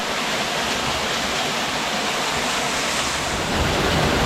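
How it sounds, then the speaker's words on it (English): Steady rushing water splashing over rocks at a small waterfall near Mt. Kosciusko, Australia, a continuous broadband roar that stays even and close throughout. "Cool little waterfall in between the rocks."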